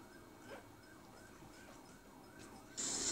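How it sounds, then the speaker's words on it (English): A faint wailing police siren in Batman: Arkham City rises and falls steadily at a distance, ending in a sudden burst of loud hissing noise. "Police siren."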